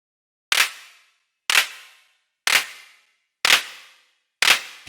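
A synthesized noise drum hit made with the Xfer Serum software synthesizer, struck five times at an even one-per-second pace, each a sharp bright burst of noise with a quick decaying tail and silence between.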